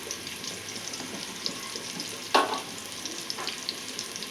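Chopped onion pieces sauté in a pan with a little salt, a soft continuous sizzle with one brief louder clatter of stirring partway through.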